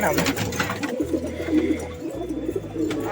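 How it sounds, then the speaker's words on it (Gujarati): Several pigeons coo in low, throaty bursts close by in a loft, overlapping one another with some rustling and background noise. "કબૂતર આવી ગયા, એટલે આખી ઓયડી પાછી ભરાઈ ગઈ"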